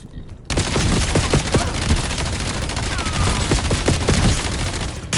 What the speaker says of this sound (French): C'est quoi qui me tire comme ça?